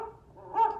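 A dog lets out a single short bark, close by and moderately loud, over a faint background.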